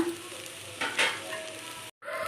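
Chopped snake gourd stirred and frying in a pan for a sambar, with a steady low sizzle and a brief stirring scrape near the middle, then a moment of silence before the frying resumes.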